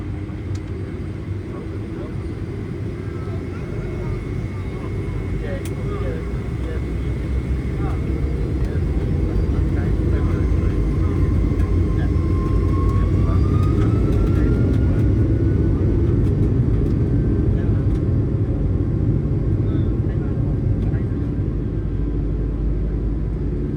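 A Condor Boeing 757-300 takes off from runway 24 right and climbs out, a steady loud engine roar and rumble filling the cabin throughout, swelling slightly midway, with a faint rising whine above it.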